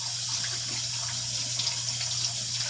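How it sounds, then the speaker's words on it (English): Tap water runs steadily over potatoes as they are scrubbed with a vegetable brush, a close, continuous rushing hiss with a low hum underneath and no voices. "all it takes is about 20 to 30 seconds of just scrubbing it with a vegetable brush"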